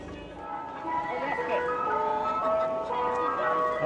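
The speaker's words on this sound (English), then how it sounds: "Oh, that ice cream van's double loud." Ice cream van at the Tram Sunday street event in Fleetwood playing a loud tinkling chime melody, close by over a low engine rumble.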